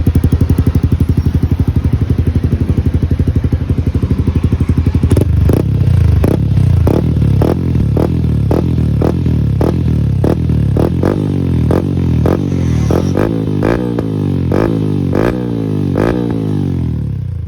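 A Yamaha Sniper 155 motorcycle with a TRC power pipe exhaust idles with a rapid, even putter, then blips its throttle in a long string of sharp, loud revs. The revs come closer together near the end, up close, with no talking.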